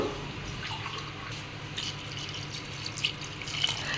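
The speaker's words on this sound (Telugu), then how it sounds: "ఈ టైంలో వాటర్ పోసేసుకుందాము తగినంత వాటర్ పోసుకుంటే సరిపోతుంది" Water pours and splashes into a pot of mutton curry in a steady trickling stream, with light gurgles near the end.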